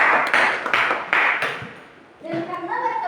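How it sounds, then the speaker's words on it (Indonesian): Classroom students clapping for two classmates, several quick bursts of applause that fade out, followed by a voice speaking. "Oke, sekali lagi kita berikan aplaus."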